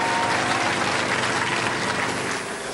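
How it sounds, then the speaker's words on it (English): A studio audience at a robot combat competition applauds in a dense, continuous wash of clapping and crowd noise, steady and loud throughout before easing slightly at the end. "Give them a round of applause."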